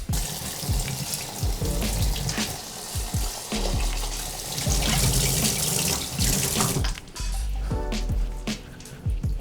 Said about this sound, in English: Go back to the sink, give it its final rinse